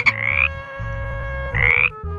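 A frog gives two croaking calls about a second apart, close and clear over a steady musical background.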